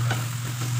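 Ampalaya and egg are stirred in a frying pan, giving a soft sizzling hiss over a steady low hum. It is brief, close and fairly quiet, with no voices.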